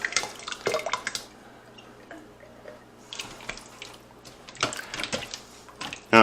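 Condensed mushroom soup pours from a can into an Instant Pot of beef and mushrooms for a keto stroganoff, with wet glugging bursts separated by quieter gaps.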